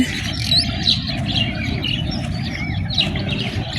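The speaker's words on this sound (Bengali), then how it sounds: "এই যে পাখি উড়ে বেড়াচ্ছে, দেখেন কি সুন্দর।" Birds chirp and tweet outdoors with repeated short high calls scattered over a steady low rumble of open countryside near a river, fairly close and with no talking.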